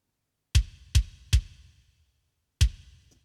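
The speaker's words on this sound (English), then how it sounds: "So the kick sample sounds like this." An unprocessed kick drum sample strikes four times, three quick evenly spaced punchy thumps followed by a pause and a fourth hit, each dry and close with a short decay.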